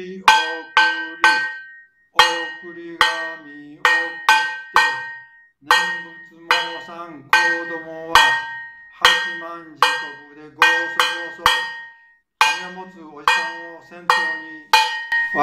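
A hand-struck bell rings out in a neighborhood procession through the streets, about two dozen sharp metallic clangs in irregular bursts, each ringing briefly and decaying, loud and close with no voices over it.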